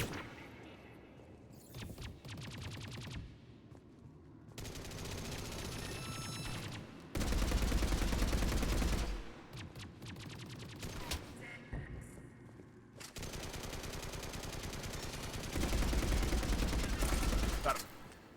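Sniper gunfire and rattling automatic bursts in the video game Mass Effect 3, coming in loud stretches separated by short quieter gaps, moderately close, with occasional voices between.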